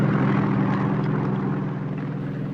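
A helicopter in a movie scene makes a loud, continuous rotor and engine drone that holds steady and eases off slightly toward the end.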